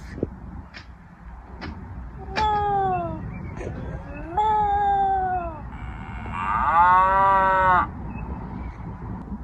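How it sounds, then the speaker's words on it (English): Several cow moos from a children's farm animal sound book, each a drawn-out lowing call, the last one longer and brighter, with faint background noise between them. "A cow says moo."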